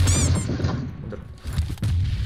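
A grenade goes off in the battle royale game PUBG Mobile, a short low boom followed by rumbling game noise and a second thump, close and fairly loud.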